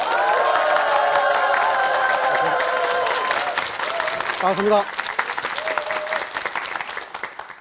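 Audience applause welcoming the first lecturer at a televised Korean talk on personality types read through the four gracious plants, loud steady clapping filling the room for several seconds before fading, with a speaker's voice and crowd murmur over the tail.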